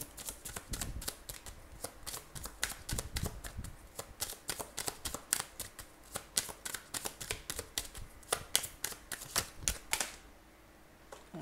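Oracle cards being shuffled by hand, a rapid run of crisp papery riffles and flicks with a steady rhythm, close and fairly quiet, ending in a brief pause.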